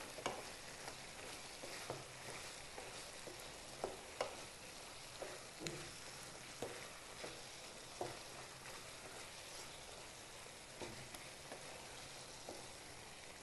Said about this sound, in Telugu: బాగా కలపాలి.